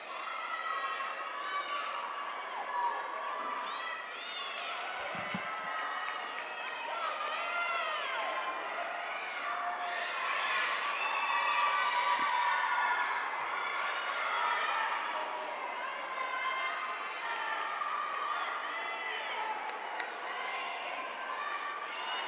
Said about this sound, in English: these girls are cheering so loud for their teammates